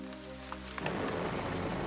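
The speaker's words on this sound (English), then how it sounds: "Thunder roared. Fell the raindrops" A rain and thunder sound effect: steady rainfall with a low rumble of thunder that swells into a heavier, denser downpour partway through, with no voices.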